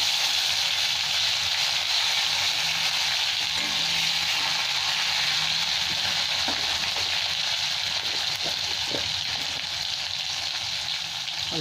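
Tomato added to hot oil with nigella seeds for a fish curry, a loud steady sizzle and hiss close by, with a few light stirring knocks near the end.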